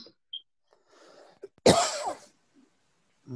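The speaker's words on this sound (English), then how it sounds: "Just a dry cough." A single sharp, dry cough rings out nearby in an otherwise quiet room during a Zoom class meeting, preceded by faint breathing and small movement sounds.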